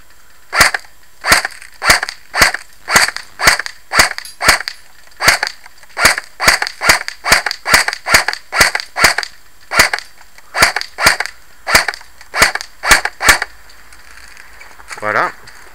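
A G36c airsoft rifle fires semi-automatic shots at a target: a steady run of about two dozen sharp, close snaps spaced roughly half a second apart, ending with a short voice.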